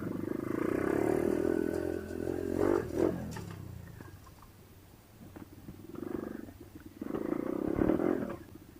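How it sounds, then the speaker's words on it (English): A motoped bike engine, heard alongside a 125cc Thumpstar, rumbles as the bike rides over a ramp and jumps, with loud revving at first, a lull, and then a strong surge of throttle again. "now I'm gonna go over that ramp, and I'm gonna get a jump on it"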